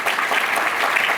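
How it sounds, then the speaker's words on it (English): Audience applause at a Chicago Park District event for an incoming superintendent, a steady dense wash of clapping that stays loud and even throughout, with no talk over it. "If you would also please give him a warm round of applause."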